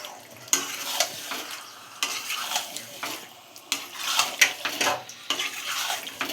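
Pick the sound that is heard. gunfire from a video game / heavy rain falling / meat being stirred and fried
meat being stirred and fried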